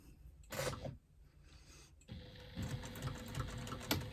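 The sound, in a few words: sewing machine sewing a wristlet bag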